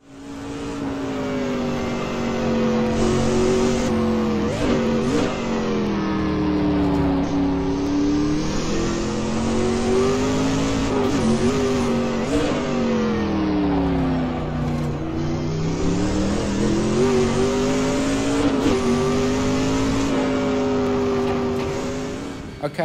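A Sauber-Mercedes C9 race car engine in a sim racing game, howling continuously and close as it rises and falls with gear changes and throttle, with no talking over it.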